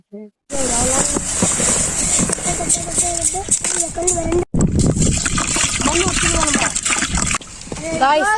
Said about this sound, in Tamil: ஒரு 3 வாட்டி அரிசி அலசிடுங்க